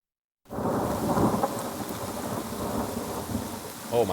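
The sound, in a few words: rain and thunder effects in video game Vandal Hearts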